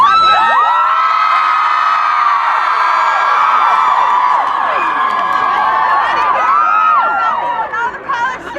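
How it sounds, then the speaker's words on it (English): Large crowd of high school and middle school students at an International Women's Day rally in Madison, Wisconsin, screaming loudly together in a sustained, dense roar with overlapping high whoops, tapering off near the end. "Can I get just scream at the top of your voice?"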